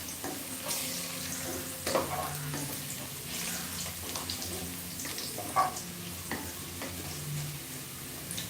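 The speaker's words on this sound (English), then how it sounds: "here you need to fry your onions till they're all brown" Onions frying in a pan for home-made fried rice, a steady close sizzle with occasional stirring clatter and brief utensil clinks, no talking.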